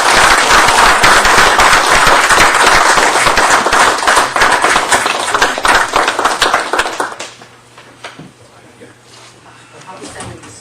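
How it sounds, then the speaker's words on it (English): Sustained round of applause from the audience at a town board meeting, dense steady clapping that fills the room for about seven seconds before fading out into quiet room noise. "All right, how about another round of applause?"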